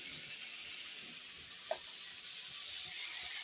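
Black cumin seeds and green chili are tempered into cooking greens in hot oil, giving a steady, close hiss of sizzling frying that runs through the whole stretch, with one brief louder spit partway in.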